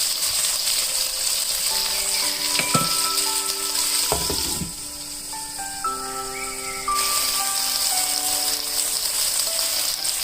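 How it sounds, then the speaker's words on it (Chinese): Tofu pan-frying in oil under a lid, seasoned with salt and pepper, making a steady broadband sizzle throughout with a quieter dip midway; tonal music plays over the frying. "豆腐差不多这样煎4分钟就行了。"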